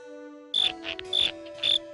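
Stylised grasshopper from a cartoon chirping in three short, shrill bursts at an even pace, set against a steady soft background drone.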